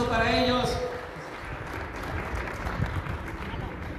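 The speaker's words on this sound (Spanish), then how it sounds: "Muchas gracias, un fuerte aplauso para ellos." Applause from an audience at a seminary event in Huajuapan de León, dense clapping over a short burst of speech at the start, steady and fairly loud, with crowd noise throughout.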